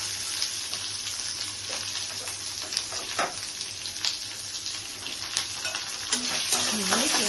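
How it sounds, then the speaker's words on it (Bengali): Grated onions frying in a pan for dhaba-style egg curry, a bright hissing sizzle with repeated stirring scrapes and knocks, close and steady throughout. "তারপর পেঁয়াজগুলো দিচ্ছি, গ্রেট করা পেঁয়াজ"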